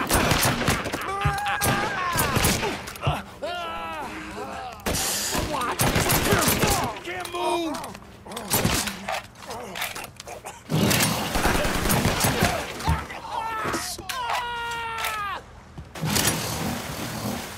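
Gunfire crackles in Mafia III, with bursts of rapid shots and single cracks scattered across the scene. Shouted game voices and car sounds run between them.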